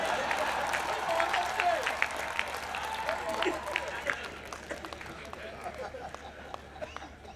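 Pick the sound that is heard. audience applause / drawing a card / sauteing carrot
audience applause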